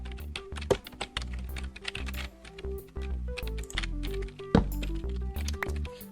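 Computer keyboard keys tapped in quick irregular bursts while typing a chat message in Minecraft, close and clear over steady background music, no talk.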